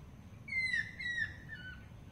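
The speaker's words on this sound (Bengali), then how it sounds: "মাছরাঙা পাখি ডাকছে কু কু করে" A kingfisher calls beside a village pond, giving a few clear, falling whistled notes in close succession over a low rumbling background.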